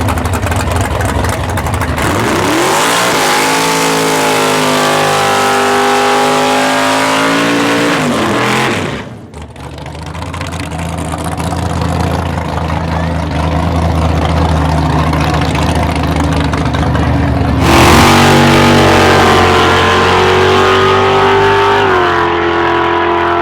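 A drag racing car at a private track event idles loudly and rumbles, revs up and down nearby, dips briefly, then roars again with a deep heavy engine tone.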